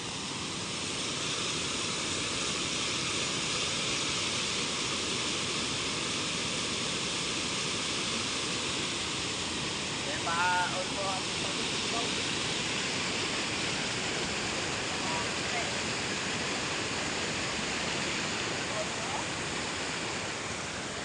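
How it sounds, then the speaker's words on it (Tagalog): Strong floodwater rushing in a continuous loud roar, broad and steady throughout, with a brief faint clatter near the middle. "Lakas ng baha."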